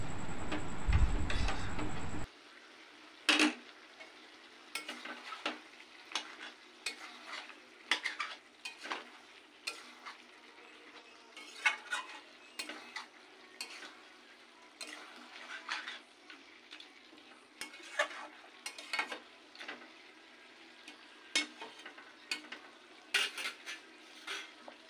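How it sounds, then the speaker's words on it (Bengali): Mutton being stirred with a ginger and green chili paste for kosha mutton: a steady run of scraping spatula strokes and metal clinks against the pan, each crisp and close, over a low sizzle, with no one speaking. "আদা ও কাঁচা লঙ্কা একসাথে বাটা দিয়ে ভালো করে নেড়ে"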